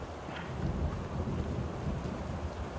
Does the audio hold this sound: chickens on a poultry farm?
no